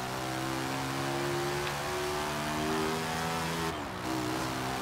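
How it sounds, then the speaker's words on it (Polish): A car in Forza Horizon 3, fitted with a motorcycle engine and six gears, drones steadily at high revs, its engine tone holding and rising slightly before a brief shift dip, loud and close with no talk. "Wyłączę radio na chwilę, żebyście mogli też ze mną posłuchać tego samochodu."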